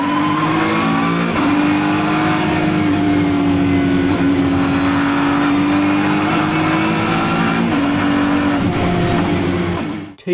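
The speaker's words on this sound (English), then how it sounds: "Number 3. Ford GT MK4." A Ford GT MK4 race car laps the Nürburgring flat out, its engine holding a loud, steady, high-revving drone with slight pitch shifts through corners, then cutting off abruptly at the end.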